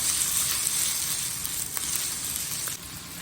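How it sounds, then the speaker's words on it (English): Vegetables sizzle steadily in hot oil in a wok, a dense, continuous hiss with a few faint clinks of utensils, close and loud with no talking. "So you're gonna throw your vegetables in first for about 30 seconds before you throw your potatoes in."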